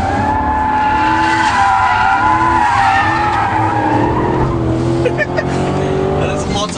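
An HSV Clubsport corners hard on a ride and handling track, its tyres squealing and skidding over a loud engine roar, with a driver talking throughout.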